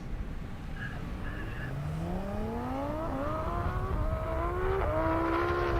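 A Sissio-built Audi R8 V10 drag car at a half-mile airstrip drag race, its engine note climbing steadily in pitch through several gears as it accelerates, loud and sustained over background crowd noise.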